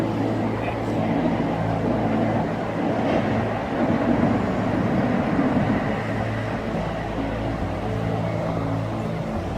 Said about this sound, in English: So the Class 90 is the big electric locomotive at the end, really powerful electric locomotive.